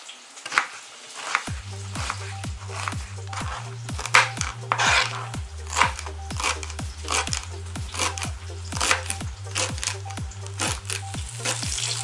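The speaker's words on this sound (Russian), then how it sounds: "порежем лук, помидорку и зелень" A knife chops onion, tomato and herbs on a board in a steady, quick rhythm of sharp, close knocks, while courgette sizzles in a frying pan underneath throughout.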